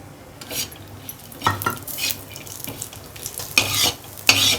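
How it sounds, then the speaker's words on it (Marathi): Dry coconut roasting in a little oil in a pan for a potato, pea and paneer curry masala, with soft sizzling and several clattering stirs of a spoon against the pan. "आता आपण खोबरे भाजून घेऊ थोडं तेल टाकू"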